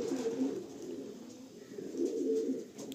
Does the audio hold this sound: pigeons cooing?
yes